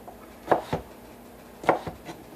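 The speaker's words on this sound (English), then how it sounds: "you have always awesomely, perfectly diced potatoes" A knife dices potatoes on a cutting board, giving two pairs of quick woody chops, close and distinct over a quiet background.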